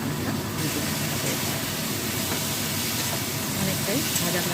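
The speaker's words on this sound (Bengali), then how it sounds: "ভালোভাবে মিশিয়ে নিয়ে ফুলকপি আর আলুটা ভেজে নিতে হবে।" Cauliflower and potatoes fry in a pan with a continuous loud hissing sizzle that stays steady from start to finish, with faint scraping of a utensil underneath.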